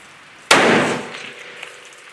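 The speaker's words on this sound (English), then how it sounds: "we're ready to shoot this gun" A single sharp gunshot from a CVA Apex muzzleloader rifle loaded with 55 grains of powder, a loud close blast at once that decays into a ringing outdoor tail over about a second and a half.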